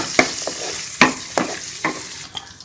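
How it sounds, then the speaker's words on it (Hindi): Nuts frying briefly in hot ghee in a pan, a steady loud sizzle broken by repeated scraping stirs at irregular intervals, with no talk over it. "1 से 2 सेकंड के लिए आपने बस इसको फ्राई करना है"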